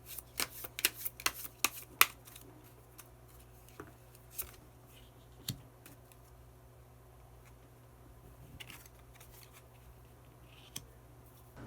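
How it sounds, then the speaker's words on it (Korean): Tarot cards are shuffled by hand in a quiet room before one is drawn, giving a quick burst of crisp riffling snaps, then a few scattered softer flicks and taps, close and alone. "그러면 카드 한 장을 더 뽑고 이야기 계속 나오도록 하겠습니다"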